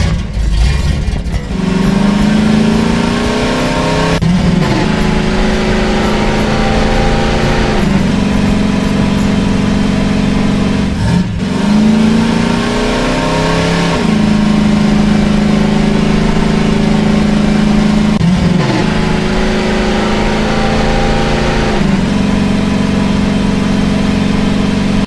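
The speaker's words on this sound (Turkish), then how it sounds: "Çalıştır şu arabayı." A car engine in a Garry's Mod animated bank-robbery film hums steadily and loudly, rising and dipping in pitch with several revs over about twenty-five seconds, with no voices.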